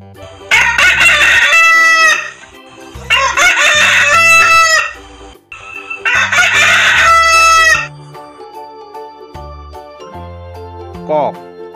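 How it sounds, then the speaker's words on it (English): A rooster crows three times in long, loud calls, each followed by a short gap, with some quieter clucking and bird calls trailing off afterward. "Cock."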